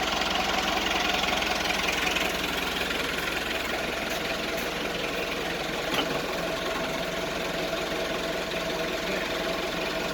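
A Detroit DD15 truck engine idles close by, giving a steady, even rumble with a faint knocking texture and a few small clicks.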